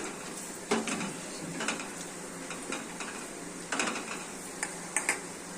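Ground cumin stirred into a sizzling pan for an ash gourd ghonto: a soft continuous fry hiss with a few sharp clinks and scrapes of a spoon against the pan.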